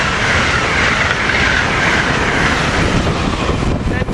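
A commuter train rolls into Cornwells Heights station on a bright, cold day, a loud, continuous close rumble of wheels on rails with a faint squeal toward the end.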